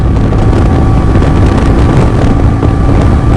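Loud, steady engine roar of a TVS Ronin motorcycle accelerating through the gears at about 100 km/h, with heavy wind buffeting the microphone, running hard at speed without any pause.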